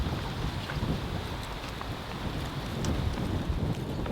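Steady wind rushes across an outdoor disc golf course and buffets the microphone in a continuous low roar that swells slightly but never drops away, with no talking.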